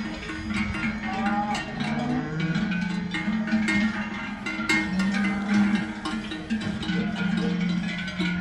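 A herd of muscular cows moves through Limonetto in the Valle Vermenagna on seasonal transhumance, with repeated deep moos over a constant clanking jangle of many cowbells, close and loud throughout.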